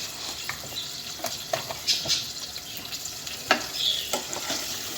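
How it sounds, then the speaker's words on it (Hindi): Kofta curry masala with turmeric, coriander powder and tomatoes sizzles in a pan while a utensil stirs it, sending scattered scrapes and clicks over the frying hiss. "अब बस हम इसे थोड़ा सा चलाएंगे"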